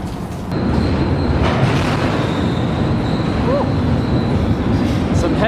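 Heavy rumbling of moving freight cars taking up slack, with clanking and a faint high squeal, continuous and close throughout.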